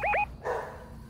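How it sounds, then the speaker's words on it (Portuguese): A pet dog gives two quick, sharp barks nearby, followed by a softer trailing whine or yip, heard over faint background game sound during a Fortnite session on Xbox One. "Peraí que meu cachorro tá latindo aqui"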